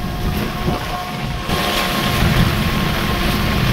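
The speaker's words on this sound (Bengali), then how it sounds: "এই যে আমরা রিক্সার ভিতরে আছি, এই যে দিকে প্রচুর পরিমাণে বৃষ্টি হয়ে যাচ্ছে" Heavy rain drums steadily around a rickshaw from inside its cover on a village trip, a dense broadband wash that swells louder after a moment, with a low rumble underneath and no voices.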